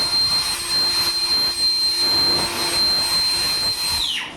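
A powerful air blower used for dust cleaning runs in a steady, loud whoosh with a high whine throughout, then winds down abruptly at the end.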